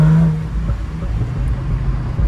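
A Jaguar F-Type convertible with a manual gearbox rumbles loudly from inside the cabin, its engine and exhaust producing a low, throbbing drone with irregular crackles.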